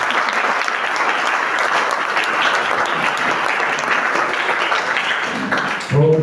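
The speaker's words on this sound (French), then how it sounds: "Si vous voulez que je vous chante ça, acclamez de votre force." A live audience breaks into sustained, dense applause, steady and full for several seconds before a voice begins to sing at the very end.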